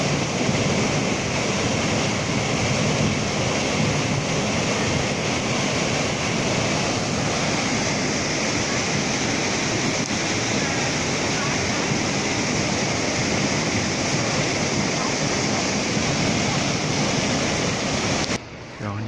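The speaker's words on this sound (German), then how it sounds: "Und hier so ein Wehr." River water pours over a weir in central Lucerne, Switzerland, a loud, steady, broadband roar that fills the whole scene close by with no break until it cuts off at the very end.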